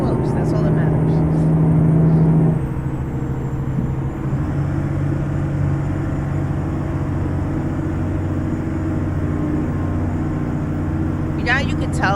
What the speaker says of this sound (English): You know how you can tell I like the sound of this truck?